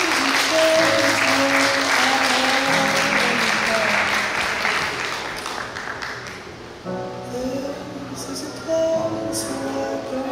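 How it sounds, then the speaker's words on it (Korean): Guests at a wedding ceremony applaud in sustained, dense clapping that eases off midway, then swells again, with background music playing beneath. "다시 한번 큰 박수 부탁드리겠습니다."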